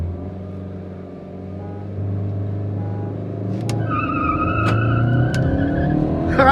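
A Honda City, Ford Aspire and Fiat Linea launch in a drag race, their engines droning and building steadily, with a few sharp chirps as the race gets underway.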